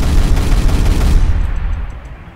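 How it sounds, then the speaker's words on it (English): A 30mm autocannon firing in the Roblox game Tankery, a loud, dense burst of rapid booming shots that blur into a continuous roar, then a quick fade. "this is a 30mm auto cannon, so you have enough shots to deal with any small or low health target"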